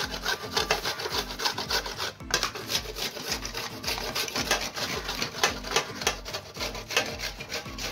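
A whole coconut is rubbed against a hand grater in steady, rhythmic rasping strokes, close and dry, with no talking.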